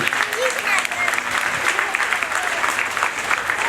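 A crowd claps steadily throughout at a police open day dog demonstration, a dense continuous round of applause at moderate distance.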